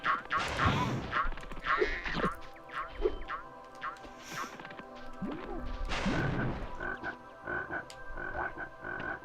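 Cartoonish frogs in the video game Spyro the Dragon 2: Ripto's Rage, croaking in a series of loud, close, bouncy calls mixed with thuds and smacks, with game music tones running underneath and no talking.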